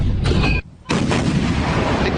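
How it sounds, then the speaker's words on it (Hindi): Chinese forces firing artillery shells: a loud, close boom, a brief drop in sound, then a second heavy blast whose rumble rolls on and fades, with no voices. "चाइनीज फोर्स अभी भी बम गोले दाग रही है"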